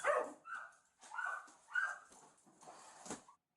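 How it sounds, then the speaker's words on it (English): Malnourished dogs inside a house give several short, separated barks and yips at moderate distance, with a brief whimpering quality between bursts and quiet gaps in between. "More dogs. 3 dogs. All malnourished."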